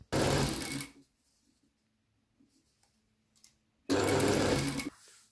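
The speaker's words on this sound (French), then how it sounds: "Donc je vais piquer le haut sur 5 mm du bord." A sewing machine stitches fabric 5 mm from the edge in two loud, steady whirring runs, close up, with a quiet pause between them.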